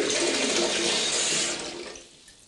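Hot water runs from a bathtub tap in a steady close gush, then tapers off and stops within a few seconds.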